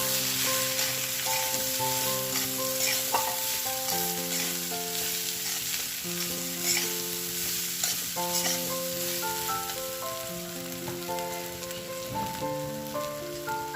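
Crushed pigeon peas with ginger-garlic paste are stirred in a pan, giving a soft continuous sizzle and scraping beneath steady melodic background music.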